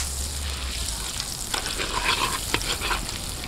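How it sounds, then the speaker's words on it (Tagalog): Butter melts in a pan outdoors as the base for a chili garlic sauce, a soft continuous sizzle with a few sharper crackles and scraping stir sounds partway through. "Unang-una po, maglalagay tayo ng butter. So, tunawin po muna natin ito mga ka-studio."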